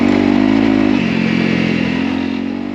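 A Honda CRF300L dirt bike engine holds steady on the throttle while riding off-road in the desert, a loud, close, continuous buzzing drone that eases slightly in pitch partway through and fades a little toward the end.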